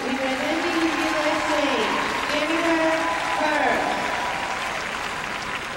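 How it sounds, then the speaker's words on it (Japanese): Crowd in the stands applauding and cheering at the 2002 World Figure Skating Championships ladies' short program, a loud continuous roar throughout while a commentator talks over it. "ひときわスタンドからの声援が高くなります。"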